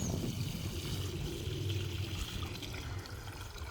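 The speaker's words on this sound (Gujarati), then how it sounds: "ઝાડવાને પાવશું" Water pours onto plants in the midday heat, a steady, close, soft rushing and trickling that keeps going without a break and has no voices over it.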